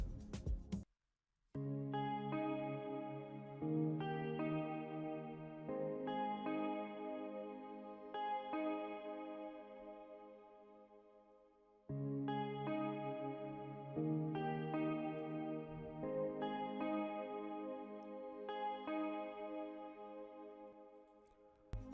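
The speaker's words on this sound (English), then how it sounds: "for this preset we are using a guitar sound called Solitude in Nexus under the splits and sequences category" A Nexus guitar preset called Solitude, from the splits and sequences category, plays a sustained, chorus-washed pattern of layered notes over two long phrases with a short break between them, after a brief cut at the start.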